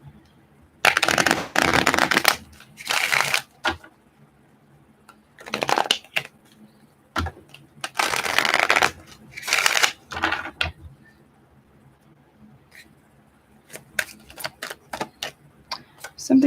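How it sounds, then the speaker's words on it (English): A tarot deck shuffled roughly in irregular bursts: loud papery riffles and flutters broken by short silences, each burst lasting about a second, closing with a few lighter taps and snaps. "going to give it a roughly shuffle."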